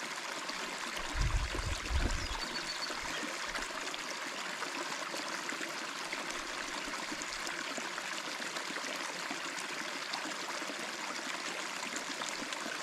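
Water trickles steadily through the layers of a makeshift survival filter built with rock. The faint, continuous dribbling has no voices over it.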